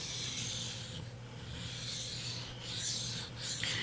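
A knife blade is sharpened on a 400-grit Naniwa Superstone whetstone, a soft, close scraping rasp in repeated strokes, fairly quiet with no speech.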